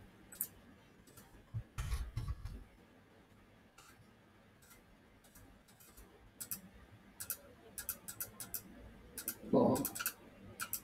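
Computer mouse clicks while working in software, a sparse series of quiet, sharp ticks at irregular intervals with faint background noise.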